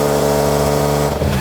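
A BMW M4 with carbon bodywork, traction control switched off, accelerates at full throttle, its engine a loud, dense, harmonic roar that holds steady before briefly dipping near the end.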